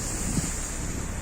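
Wind from a snowy blizzard in Kyiv at minus seven degrees roars steadily and close, a dense continuous rush with no talking over it.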